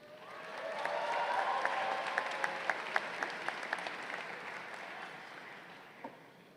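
A graduation audience at Lake Orion High School claps warmly, the applause swelling up and then slowly fading, with a few sharper individual claps standing out.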